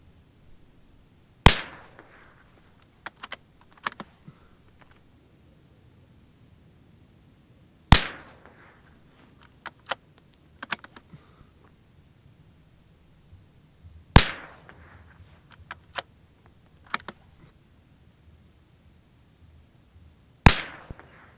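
Four sharp, loud cracks from an old .22LR rifle firing CCI Velocitor rounds at a 100-yard target, spaced about six seconds apart, with quieter mechanical clicks and clatter between shots and no talking.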